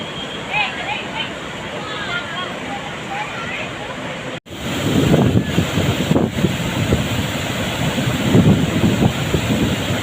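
The Dhanushkodi waterfall on the Kaveri river at Chunchanakatte gives off a steady broadband roar of rushing water with wind buffeting the microphone. It grows louder after a brief cut, and a narrator talks over it.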